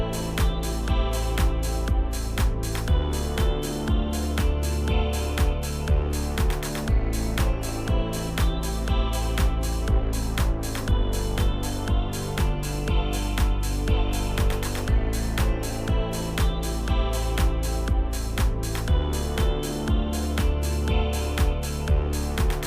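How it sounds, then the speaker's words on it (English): Dreamy electronic track blending shoegaze and dream pop, with washy sustained pads over a steady pulsing beat and repeating melodic layers, loud and continuous throughout. "Have you ever heard of shoegaze or dream pop mixed with electronic music?"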